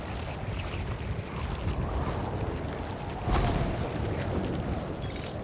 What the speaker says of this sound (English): The intersection of Court and Montague is super windy.